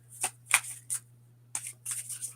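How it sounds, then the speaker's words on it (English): A tarot deck is shuffled by hand in three quick riffling bursts, then a longer run of shuffling, close and crisp over a steady low hum, with no talk. "I'm gonna give this 3 shuffles"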